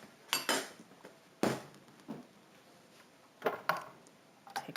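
Caramelized Asian pears being folded into cake batter, a utensil scraping and clinking against the mixing bowl in a few sharp bursts separated by quiet pauses, with no talking.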